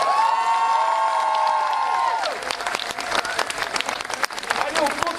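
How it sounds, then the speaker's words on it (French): A talk show studio audience breaks into loud, sustained applause, with scattered cheers, right after a brief tonal musical sting fades out. "on l'applaudit bien fort."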